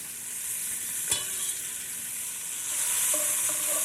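Onions, thyme, bay leaf, peppercorns, carrots and celery sizzling in olive oil in a braising pot, a steady close hiss with one sharp stir knock and a brightening crackle near the end.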